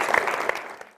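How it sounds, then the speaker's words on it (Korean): A burst of audience applause in a lecture hall during a talk on Machiavelli's The Prince, a dense brief clatter of clapping that quickly fades out. "박수 부탁드리겠습니다."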